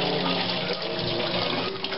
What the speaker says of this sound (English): So I'll turn the water on.